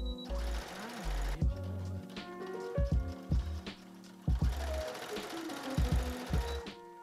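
A sewing machine stitches very thick fabric for a large replica of Billie Eilish's Met Gala gown, whirring in several close bursts of stitching separated by short pauses.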